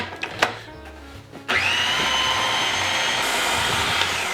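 Food processor whirring through a chickpea falafel mixture, starting with a few clattering bumps before a loud, steady motor drone kicks in and runs continuously to the end.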